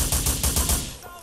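Rapid automatic gunfire bursts in GTA IV, loud and close, a quick string of shots that cuts off within about a second.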